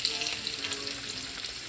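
Onion frying in hot oil for a tadka with cumin and curry leaves gives a soft, steady sizzle and crackle, close by and fairly quiet.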